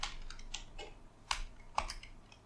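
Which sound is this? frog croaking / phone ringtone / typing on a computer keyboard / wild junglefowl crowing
typing on a computer keyboard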